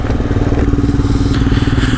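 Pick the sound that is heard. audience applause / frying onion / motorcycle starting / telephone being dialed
motorcycle starting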